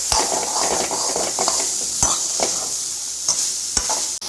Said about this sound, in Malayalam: ഇനി നമ്മൾ അതിലേക്ക് മാങ്ങ ഇട്ട് കൊടുക്കുന്നുണ്ട്.